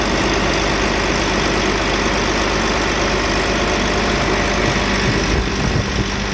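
A Volvo truck diesel engine runs smoothly after an injector repair, a loud, steady, close idle rumble holding evenly throughout with no talking.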